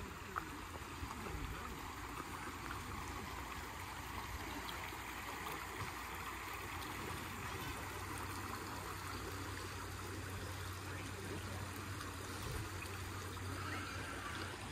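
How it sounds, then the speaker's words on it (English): Water flows steadily beside a waterfront campsite at a hammock gathering, a continuous soft rush and trickle that stays fairly faint and even throughout, with no one talking. "Sound of water to lull you to sleep."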